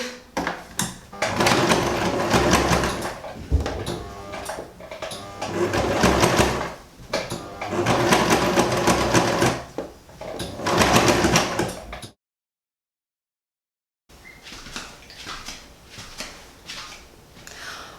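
A sewing machine stitches dyed clothes in loud, steady bursts of rapid mechanical whirring, pausing between runs, with a brief silent gap and a quieter stretch near the end.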